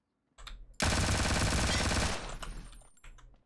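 An AK rifle firing in the video game Ring of Elysium, a rapid burst of automatic shots lasting over a second, loud and close, with quieter single reports before and after.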